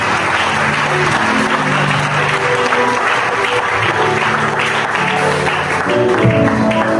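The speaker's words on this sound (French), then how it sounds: "On acclame très fort le Seigneur." A church congregation at a seminar applauds loudly and steadily for the Lord, a dense, continuous wall of clapping from many hands that fills the hall without a break.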